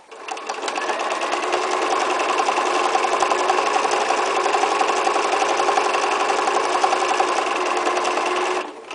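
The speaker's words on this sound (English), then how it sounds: "It'll zigzag the same thing I set it to zigzag at forever until I turn the machine off" A sewing machine runs a steady zigzag stitch for free motion applique, a loud, continuous rapid whirring and needle clatter lasting several seconds without pause before stopping abruptly at the end, with no one speaking.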